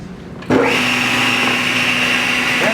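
A power saw rips through a wood board held against the fence, starting with a sharp onset after a quiet moment, then a loud, steady high whine and buzz that carries through to the end.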